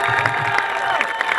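Applause from a mushaira audience rolls through the hall in a brief, dense patter of clapping mixed with crowd murmur.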